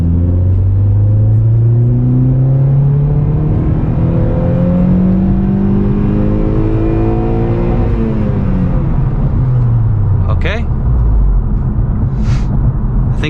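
A tuned car engine with its rev limiter raised to 7,000 RPM revs up hard, its rising drone climbing steadily through the gears before dropping back, loud and close, with a couple of brief sharp noises near the end.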